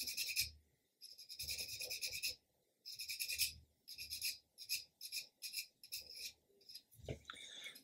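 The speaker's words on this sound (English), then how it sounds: "most of what we're doing is actually just removing filler at this stage and getting it down to just the plastic" Sanding filler off a 1/72 plastic Airfix Bristol Beaufort model kit gives close, raspy scraping strokes in repeated bursts, long passes at first then shorter quicker rubs, with short pauses between.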